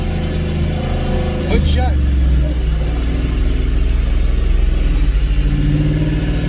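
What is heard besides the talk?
Ford F150 engine revving on a dyno in 4th gear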